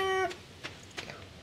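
A kitten in the Stardew Valley video game lets out one short, bright meow, followed by a couple of faint soft game sounds.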